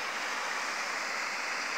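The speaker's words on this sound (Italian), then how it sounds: "la cascatina del Terzolle" Small waterfall on the Terzolle stream, a steady, even rush of falling water heard from close by with no voices.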